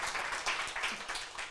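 Applause from a nightclub comedy-show audience, a steady dense wash of many hands clapping at moderate distance, continuous through the moment with no talk over it.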